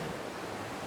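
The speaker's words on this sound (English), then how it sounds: "The waves are just getting worse and worse." Ocean surf crashes in a steady broadband roar at a deep water solo climbing spot on sea cliffs, faint and continuous with no voices.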